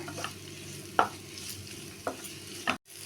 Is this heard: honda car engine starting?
no